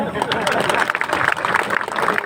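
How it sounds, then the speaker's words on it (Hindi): Audience applause at a motivational talk: dense, steady clapping from a crowd, fairly loud and continuous throughout, with no pause or clear build or fade. "ताली बजाओ ढंग से।"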